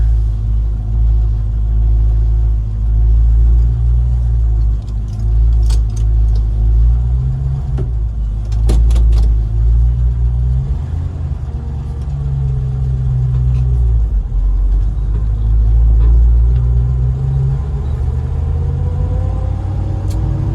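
A Ford car drives across an airport runway, its engine a loud, steady low rumble heard from inside, rising and easing with the throttle and overlaid by a few faint clicks and rattles.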